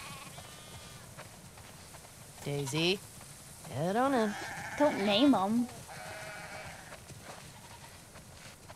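Several sheep bleat in wavering cries, one after another, in the video game The Last of Us Part II, over a soft background hiss, while a person speaks briefly between them.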